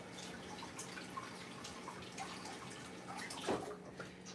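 Tap water runs steadily at low level while tomatoes are rinsed in a kitchen, with a dripping, splashing texture and a brief louder splash near the end; no one talks.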